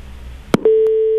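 A steady single-pitch telephone tone sounds after a call drops, following a brief click and a short noisy burst, and it continues unbroken at a moderate level with no talk over it.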